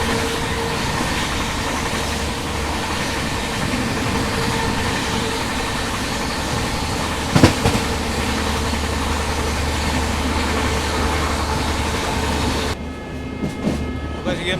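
An express train runs through Dadri railway station, heard from on board as a steady loud rumble of rolling wagons and engine, with a sharp clatter midway and a brief drop in noise near the end.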